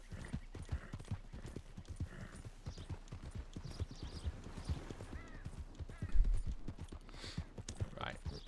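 Horse hooves clip-clop steadily on the ground in Red Dead Redemption 2 as a rider travels toward a train station, a continuous walking rhythm heard under game sounds and light background noise.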